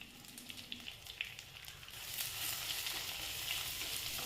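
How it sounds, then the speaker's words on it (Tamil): Sliced onions sautéing in oil for a brinjal fry, a faint hiss that grows into a steadier sizzle partway through, with light stirring, quiet and close. "பாருங்கள் இந்த மாதிரி வதக்கிட்டே இருங்க உங்களுக்கு நல்லா வதங்கி வந்துடும் வெங்காயம்"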